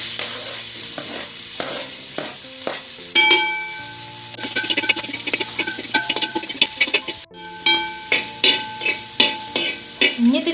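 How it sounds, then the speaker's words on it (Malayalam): Sliced onions and green chillies frying in hot oil in a pan with spiced oil for a cauliflower-potato masala: a loud, steady sizzle with repeated clattering stirs and scrapes of a spoon against the pan. "ഈ എണ്ണയ്ക്ക് 2 സബോള അരിഞ്ഞതും പച്ചമുളകും ഇട്ട് കൊടുക്കുക."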